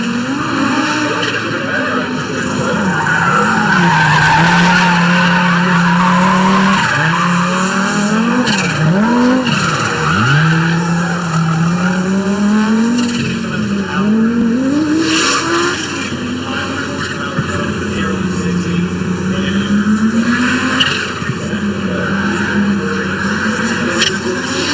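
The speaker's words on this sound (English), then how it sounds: "An iconic noise, ladies and gentlemen. It is lot 115, the 1985 Audi Sport Quattro Series 1 Evo" A 1985 Audi Sport Quattro Series 1 Evo roars continuously up close, its engine wailing and warbling while the tires squeal in long, wavering skids, loud throughout.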